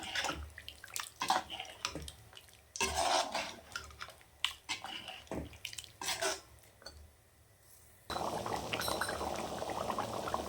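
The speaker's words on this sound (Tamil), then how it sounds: "இப்போ நல்லா ஒரு அஞ்சு நிமிஷம் நல்லா கொதி வரட்டும்" Mutton curry left to boil in a pot, a continuous bubbling, gurgling simmer with occasional liquid splashes and pot clinks, close and fairly quiet with no voices.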